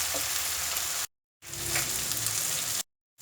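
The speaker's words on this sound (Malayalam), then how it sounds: "ആ വഴുതനങ്ങയൊക്കെ ഒന്ന് നന്നായിട്ട് ഫ്രൈ ആയിട്ടുണ്ട്" Brinjal fries hard in a pan over full flame, making a dense, even sizzle close to the mic. It comes in two bursts separated by a short silent gap, with no voices.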